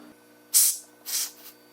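Canned carbon monoxide test gas sprayed at a CO detector on a Simplex 4100ES fire alarm system: three short close hissing bursts, the first sharpest, separated by brief pauses over a faint electrical hum.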